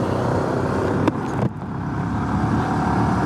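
A Honda Super Cub motorcycle ride on a commute: steady road and engine drone with wind rush throughout, briefly interrupted by a couple of short bumps or gusts, continuous and fairly loud without talking.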